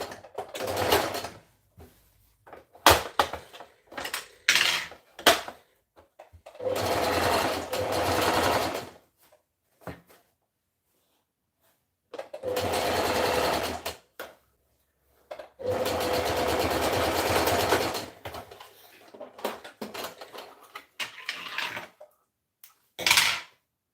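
A sewing machine stitching pants fabric runs in repeated bursts of several seconds each, a loud, close mechanical whirr. Short gaps and quick ticks of handling come between the runs.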